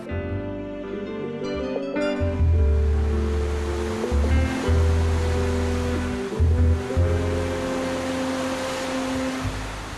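Sea waves wash steadily onto Mai Khao beach in Thailand, a constant broad surf rush with a low droning hum running underneath throughout.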